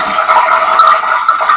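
A toilet flush sound effect gives a short, loud rushing of water that swirls steadily for a second and a half, with no talking over it.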